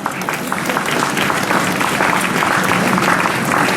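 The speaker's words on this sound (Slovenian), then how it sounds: "Spontan aplavz." A crowd bursts into sustained, dense applause at a ceremony marking Ljubljana's European Green Capital 2016 title. The clapping is steady and fills the whole stretch, with no pause.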